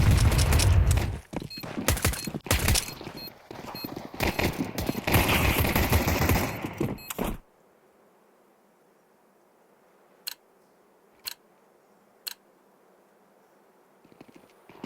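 Counter-Strike gunfire erupts in a dense, loud stretch of rapid shots and bursts during a professional esports match, then gives way to near silence broken by three isolated single clicks.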